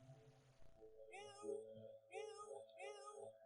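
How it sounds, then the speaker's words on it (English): A cat meow sound effect plays three times in a row, clear and up close, over a low steady hum with a brief rustle before the first meow. "now and then it gets to this meow"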